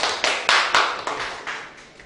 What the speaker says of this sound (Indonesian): berikan tepuk tangannya